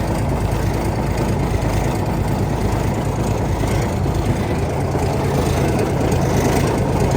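A cabover truck with 6-inch straight pipes idles nearby with a loud, steady, rumbling exhaust, a deep continuous throb that never changes pitch.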